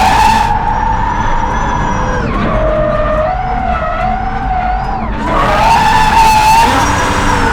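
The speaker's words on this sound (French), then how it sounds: "C'est quand même pas tous les jours que on peut faire du drift en concept car." Renault 5 Turbo 3E concept car drifts with tyres skidding loudly. Sustained screeching squeal wavers and bends in pitch over a rumbling engine, easing midway then swelling again, close and intense.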